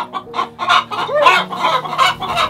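Several chickens cluck and squawk close by in a busy, overlapping chorus, with one rising call standing out.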